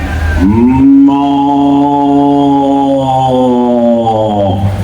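A single cow lets out a long, loud, close moo lasting several seconds, steady and tonal, with no other voices around it.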